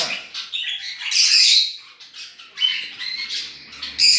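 Two bird chicks call from a breeding cage, giving loud, close, repeated raspy squawks and begging chirps in quick overlapping bursts.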